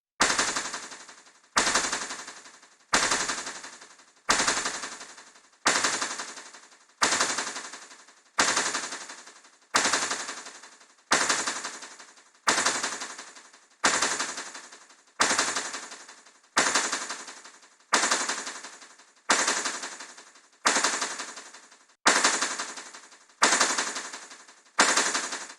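Raw drum loop with hi-hats, repeating as a steady train of sharp, bright percussive hits about every 1.5 seconds, each decaying quickly, loud and alone with no voices.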